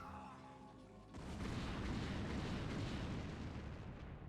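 A nuclear strike detonating in a StarCraft match: a quiet lead-in gives way to a broad, deep rumbling blast that swells and holds as a sustained roar.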